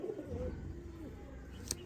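Pigeons kept by a fancier in Sialkot coo softly at close range, a low murmuring call that fades, followed by a brief sharp click near the end.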